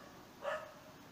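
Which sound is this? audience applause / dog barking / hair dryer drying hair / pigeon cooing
dog barking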